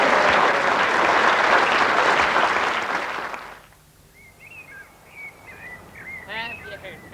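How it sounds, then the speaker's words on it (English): Loud audience applause fills the first few seconds and then stops abruptly, leaving a quiet outdoor space where birds chirp and call. "You can clap now."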